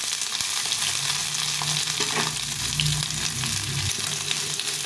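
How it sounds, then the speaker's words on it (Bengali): Pieces of pointed gourd (potol) fry in hot oil with a dense, continuous close sizzle and crackle, and no talking. "আমি এই পটলগুলো ভেজে নেব।"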